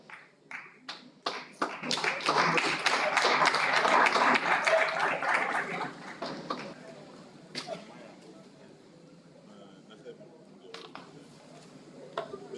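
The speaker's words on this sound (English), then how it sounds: "Let's clap as they mount the podium to launch this very important book." An audience applauds at a commemorative lecture and book launch, with scattered claps building into full, dense applause that fades out after a few seconds. Faint room sounds linger afterwards.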